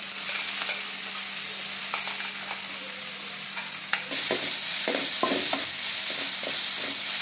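Cumin, mustard seeds, curry leaves, green chili, coriander and ground masala sautéing in oil for vada pav filling, a close steady sizzle that grows louder partway through, broken by sharp scraping stir strokes, with no voices.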